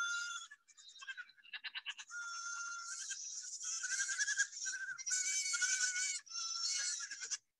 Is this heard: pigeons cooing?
no